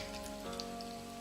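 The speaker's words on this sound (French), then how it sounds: "Ensuite on le verse sur le riz chaud" A stream of vinegar and sugar seasoning is poured over hot sushi rice, giving a soft, continuous patter and hiss over a faint steady hum.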